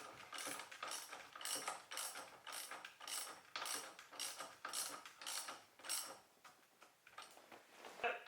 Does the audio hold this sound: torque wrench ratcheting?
yes